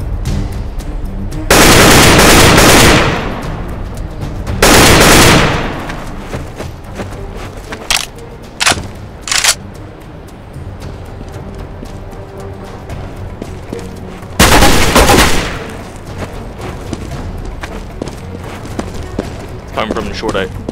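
Bursts of gunfire from CS:GO on the Dust2 map: several loud sustained volleys and a few short separate shots, with quieter game ambience and occasional talk between them.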